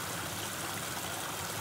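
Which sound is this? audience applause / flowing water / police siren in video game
flowing water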